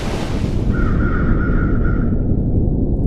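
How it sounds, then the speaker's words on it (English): Video game ambience in a work-in-progress orca game: a crow caws in a quick string of calls over a loud, steady rumbling wash, with no talking. "you can hear the bird calls are still a little iffy."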